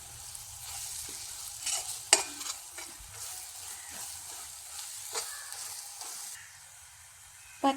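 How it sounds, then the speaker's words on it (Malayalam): Chicken curry fries in a pan while being stirred, giving a steady soft sizzle with occasional spoon scrapes and clinks against the pan, close up and without talk. "കുറച്ച് സമയം ഇത് ഇളക്കി കൊടുക്കാം."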